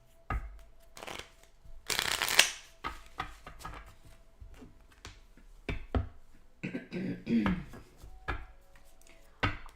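Tarot cards are shuffled by hand at close range in repeated bursts of riffling and sliding, broken by soft taps and pauses, fairly quiet with no speech.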